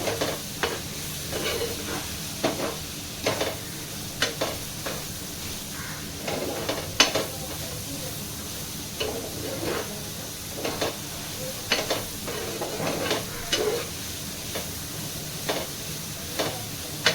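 A spoon stirs turmeric, red chili powder and masala into a frying pan for khichdi, giving repeated scraping strokes over a steady oil sizzle, close and fairly quiet with no talking.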